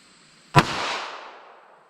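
One sharp pistol shot fired with .380 ACP Winchester Silvertip ammunition at an outdoor range, a loud close crack followed by a long decaying echo tail, with no voices.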